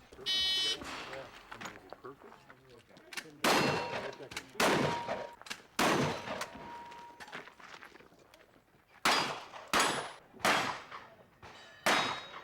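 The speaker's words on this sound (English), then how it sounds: "Shooters fire their shotgun, rifle, and pistols and must hit the targets in the order of each particular match" Shotgun, rifle and pistol fire at a Wild West-style shooting match, heard as a string of sharp, loud shots and metallic clangs from steel targets spaced a second or two apart, with someone narrating over the gap.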